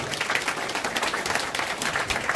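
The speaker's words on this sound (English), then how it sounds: "You gotta give these guys a big applause because they put up 12 grand." Audience at a real estate investing event applauds donors, a steady wash of many hands clapping close and fairly loud throughout.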